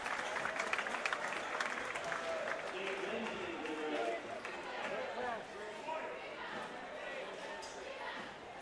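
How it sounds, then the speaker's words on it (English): Crowd in a high school boys basketball gym applauds a senior player, moderate clapping and chatter blended with a commentator's voice over the arena's ambient murmur. "there's a round of applause"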